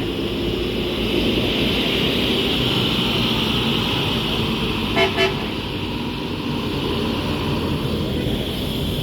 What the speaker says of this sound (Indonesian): ini bus kedua yang berangkat dari terminal Busur Padang Panjang dari PO NPM